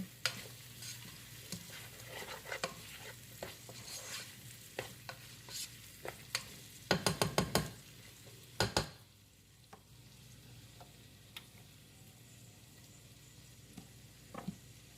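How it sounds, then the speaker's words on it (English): Kale greens frying in a pan are stirred with a utensil, giving a quiet sizzle under repeated taps and a quick cluster of rattling scrapes midway, close and without talk. "I'm just going to stir it up. Make sure it's all mixed together in there."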